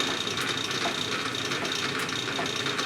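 A Clausing 8520 milling machine runs with its power feed engaged, a steady, dense mechanical whir and rattle of gears and ratcheting parts, loud and close, continuous with no talking.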